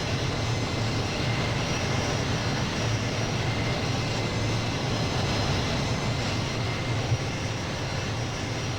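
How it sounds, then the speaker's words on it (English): A C-17 Globemaster military transport in Flight Simulator 2020 gives a steady, loud engine drone with a deep low rumble, unchanging for the whole stretch with no talking. "So an impressive aircraft, really nice to fly with."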